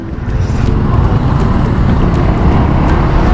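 Road traffic in the Philippines makes a steady, loud, broadband roar of passing vehicles, with a few faint higher ticks and no speech.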